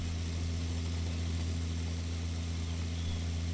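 A heavy tractor with a front loader in Pure Farming 2018 idles steadily, a constant low droning engine hum with no change in pitch.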